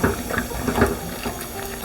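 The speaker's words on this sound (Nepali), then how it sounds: "अब ठिक्क पानी राखेर पकाउनु पर्यो" Water is poured into a cooking pot of mixed ingredients while a Kwati and mutton meal is prepared in a Nepali kitchen. It makes a short, close splashing run of uneven gurgles.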